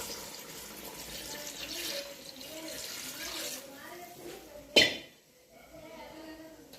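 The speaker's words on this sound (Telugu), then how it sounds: "నీళ్ళు వాటర్ వేసుకోవాలండి" Water runs and pours into a cooking pot for biryani, ending in a sharp metallic clank, then quiet.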